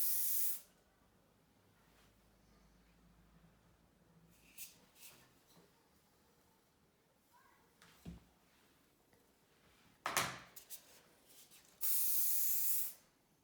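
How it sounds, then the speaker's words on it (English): Hairspray from an aerosol can misted onto a styled fringe on a model head, heard as two hissing sprays: a short burst at the start and a longer, steady spray near the end, with faint handling rustles between. "I'm then going to add a little bit of hairspray."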